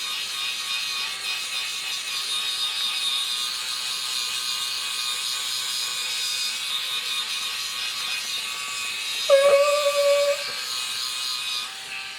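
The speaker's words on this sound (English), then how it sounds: "I just do this exfoliating brush." An electric exfoliating face brush buzzes steadily and faintly at close range for the whole stretch, with a brief louder whirring change near the end as it shifts against the skin; no one speaks.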